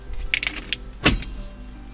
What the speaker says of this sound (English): swivel the passenger seat around